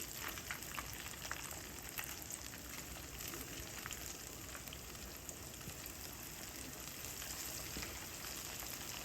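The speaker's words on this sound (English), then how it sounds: "This gonna be my new pot to fry in now." Mustard-coated chicken fries in hot oil in a pot over a wood-fired setup, giving a steady, dense sizzle and crackle that continues evenly throughout, fairly faint and without talk.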